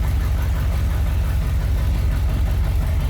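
A 1972 Corvette engine with its choke disabled runs steadily at a rough, low idle, its continuous rumble close and even throughout.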